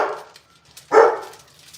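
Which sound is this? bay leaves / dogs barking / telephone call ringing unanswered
dogs barking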